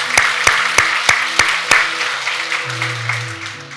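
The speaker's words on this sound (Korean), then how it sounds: "우리 다시 한번 하나님 앞에 감사의 박수 올려드리도록 하겠습니다." A church congregation claps together during a worship service. The clapping is loud and fairly near, opening with a few sharp unison claps before settling into steady, dense applause that runs the whole time, with a low sustained hum underneath.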